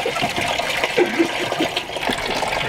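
Coolant water gushing and splashing out of a car's detached radiator hose in a home garage, a steady close liquid rush without pause.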